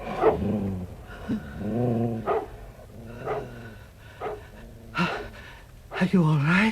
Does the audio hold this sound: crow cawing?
no